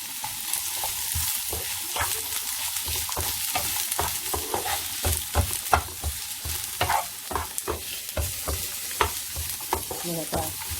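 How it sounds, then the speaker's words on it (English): Onion frying in a little oil in a pan, a close, steady sizzle broken by frequent scraping and clacking stir strokes, with no talking. "Oil, I put a little bit oil, the pan, and then I put the onion."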